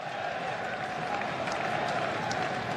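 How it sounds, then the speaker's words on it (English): A cricket crowd at Edgbaston applauds during a Tuesday afternoon of an England versus Australia Ashes Test, a steady wash of clapping and crowd noise throughout, loud and continuous, with no distinct voices. "And then you get a burst of enthusiasm from the crowd."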